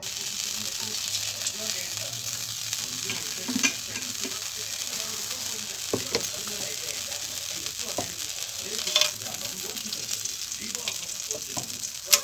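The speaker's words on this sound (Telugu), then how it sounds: "ఇప్పుడు మనం తాలింపు వేసేసుకుందాం" Spice tempering of urad dal, chana dal, mustard seeds, cumin, dry red chillies, curry leaves and crushed garlic sizzles steadily in hot oil, with scattered stirring clicks and spatters throughout, close and continuous.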